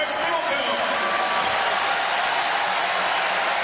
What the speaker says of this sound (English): Good hand from this appreciative Michigan Senior Day crowd